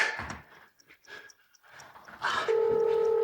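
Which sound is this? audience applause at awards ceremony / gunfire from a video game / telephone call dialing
telephone call dialing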